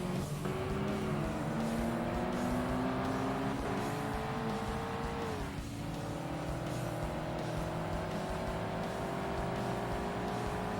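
A Mazda race car engine in the video game Assetto Corsa Competizione, a steady droning whine that rises through the gears with audible shifts, accompanied by other cars nearby.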